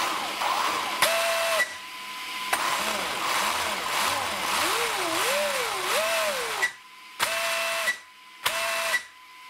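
Traxxas X-Maxx RC car electric motor on a ZTW Beast Pro ESC, whining and rising and falling in pitch through abrupt throttle bursts, ending in several short sharp revs separated by silence, with a voice talking over it.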